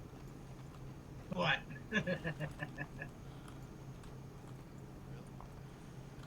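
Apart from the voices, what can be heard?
horse hooves clip-clopping in Red Dead video game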